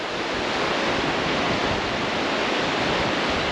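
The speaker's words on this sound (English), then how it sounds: "there is a super fun looking wave train right here at the top because the river squeezed down" Churning river rapids in a wave train at Hell's Half Mile on the Middle Fork Salmon, where the river squeezes down; a steady, loud, broadband roar of rushing whitewater with no voices.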